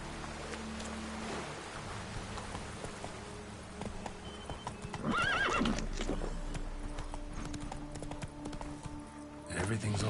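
Geralt's horse Roach in The Witcher 3, rhythmic galloping hoofbeats with a loud whinny midway amid rain, under occasional speech.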